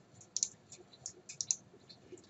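Mouse clicks sound in Automation Studio hydraulics software, a few light, sharp clicks in quick pairs over quiet room noise.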